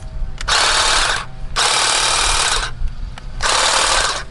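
A Ryobi 18V cordless hedge trimmer with dry, unoiled blades and hardened grease runs in three loud, buzzing bursts of about a second each, separated by short pauses, close to the microphone with no talking.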